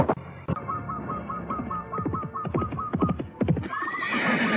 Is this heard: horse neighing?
yes